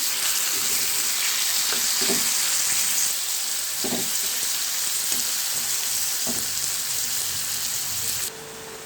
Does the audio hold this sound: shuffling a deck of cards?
no